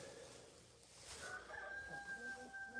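A chicken on an animal farm clucks and crows faintly from a corner during morning chores, a few short calls rising toward the end against quiet room noise.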